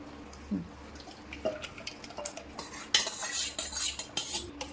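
Spoon clinks and scrapes in a bowl as a ginger, chilli, garlic and coriander chutney for bhajiya is mixed, with irregular close taps and a brighter burst of clatter partway through.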